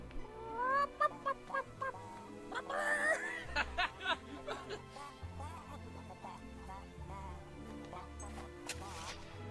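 Chickens in the video game Fable 3 cluck and squawk in short, bright bursts over a steady low game music bed, with a few louder calls near the middle.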